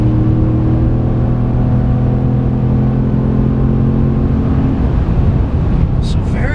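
A 2017 Ram Sport 5.7L Night Edition 4x2 pickup drives along with a steady, loud cabin drone of engine hum and road noise that shifts tone partway through.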